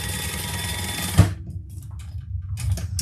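A sewing machine top stitches Bengaline fabric in a steady, close whir that stops abruptly after about a second, followed by quieter handling noises and a brief resumption near the end.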